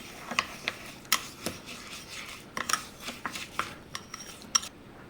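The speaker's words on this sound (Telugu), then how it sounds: "ఇప్పుడు ఒకసారి బాగా కలిపేసుకుందాం." Sweet roll ingredients stirred together in a bowl, with scattered clinks and scrapes of a utensil against the bowl in an irregular rhythm, close and fairly quiet.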